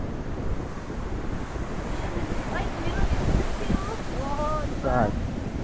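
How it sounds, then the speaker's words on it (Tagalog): Ocean waves at a beach resort in Caba, La Union: a continuous, rushing wash of surf mixed with gusty wind buffeting the microphone, with faint voices in the background. "Ang ganda ng dagat, maalon"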